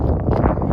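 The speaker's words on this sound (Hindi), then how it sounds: "गरम गरम हवा चल रही है, बहुत बड़ी हवा चल रही है।" Strong hot wind at night in a mountain valley, a loud, steady rushing roar buffeting the microphone without pause, with no voices over it.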